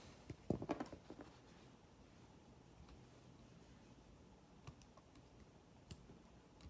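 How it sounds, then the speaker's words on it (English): A few quick plastic key taps on a calculator come in a short cluster near the start, then sparse faint clicks follow over a quiet background. "we type into calculator"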